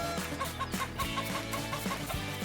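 Chicken on a farm clucking in a children's story soundtrack, a rapid run of short repeated clucks over a busy musical backing, moderately loud and close.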